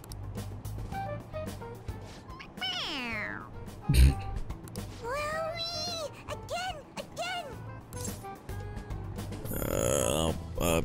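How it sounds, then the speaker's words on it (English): A squeezable toy cat from Persona 5 Royal gives a series of close, sliding meows of varying pitch, pressed several times in quick succession with short gaps between them. "It meows when you press on its head."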